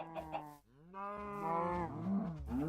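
A cow in the video game Minecraft lets out a couple of short grunts, then one long, drawn-out moo that is near and clear, heard with no talk over it.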